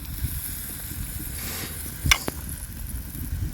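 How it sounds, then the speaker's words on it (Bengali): Chopped tomatoes drop into a spice paste frying in a pan, giving a steady close sizzle with a brief louder burst of hissing and crackle as they hit the hot oil. "এইবার দেবো 2টো টমেটো কুচি"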